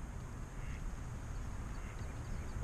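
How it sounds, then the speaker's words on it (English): A duck quacking near a fishing spot, with faint, brief calls set low under a steady wash of outdoor background noise. "I landed right in front of that duck."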